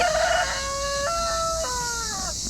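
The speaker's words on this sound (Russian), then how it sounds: "Петух всех зовет на ужин" A rooster crows once in Alanya, Turkey, a long, loud, close cock-a-doodle-doo stepping through several drawn-out tones over a steady background hiss.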